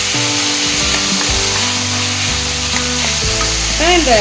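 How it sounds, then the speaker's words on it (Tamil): Coriander and curry leaves crackling and sizzling in hot oil for drumstick sambar, a loud steady frying hiss with stirring scrapes throughout. "மல்லி கருவேப்பிலை போட்டுக்கலாங்க. நல்லா வணங்கட்டுங்க."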